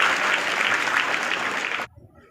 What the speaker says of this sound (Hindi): ताली बजा के इनका स्वागत कीजिए।